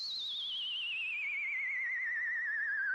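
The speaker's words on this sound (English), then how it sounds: "It's just like a sine wave or something." A synthesized sine wave tone with light noise, a single sustained pure tone with a slight wobble that glides steadily downward in pitch over three seconds, heard alone and at a moderate, even level.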